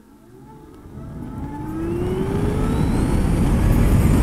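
A 2016 Zero SR electric motorcycle accelerating uphill at full throttle in sport mode, a rising motor whine climbing steadily in pitch over a growing rush of wind and road noise, getting louder throughout.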